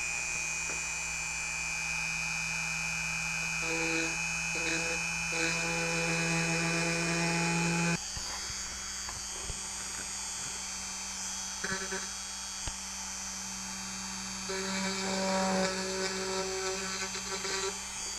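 A rotary tool gouging into a plastic AMT 1/2500 Enterprise model kit, a close high whine with a steady hum underneath, shifting pitch as it bites into the plastic in bursts and pauses.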